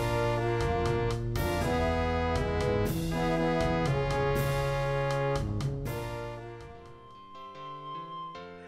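Self-composed orchestral-style music built on a sci-fi film chord progression like those in Star Wars, with sustained chords and rhythmic accents that swell before easing into softer, fading final chords, with no voices.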